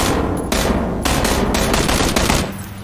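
Rapid automatic M16 rifle fire in the game PUBG, a loud continuous burst of shots with short breaks, heavy and reverberant, with no talking over it.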